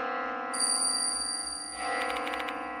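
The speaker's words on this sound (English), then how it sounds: "Where's this bell sound coming from?" A steady electronic bell rings in the horror video game Spirit Hunter: Death Mark II, with sustained ringing tones joined by a higher shrill tone and then a rapid pulsing chime near the end.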